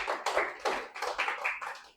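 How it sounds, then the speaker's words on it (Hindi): Claps from a class audience, heard as a series of distinct, close bursts of hand clapping in an irregular rhythm, with several separate rounds before it fades out. "जोरदार तालियां बजा दो"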